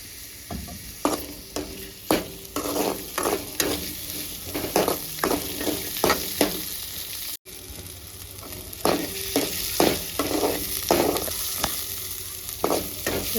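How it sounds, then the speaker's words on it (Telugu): Onions frying in oil in a pan, stirred in a steady rhythm: repeated spatula scrapes and clacks ride over a constant moderate sizzle, with a brief cut midway. "ఉల్లిగడ్డలు కూడా కొంచెం ఆయిల్ వేసి బాగా ఫ్రై చేసుకోవాలి"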